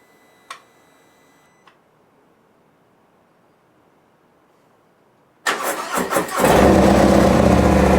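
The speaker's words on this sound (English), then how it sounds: "let's go ahead and start the bike up." A Harley-Davidson Street Bob motorcycle, fitted with a Vance & Hines FP4 tuner, sits quiet apart from a couple of faint clicks, then the starter cranks and the engine catches into a loud, close, rumbling idle.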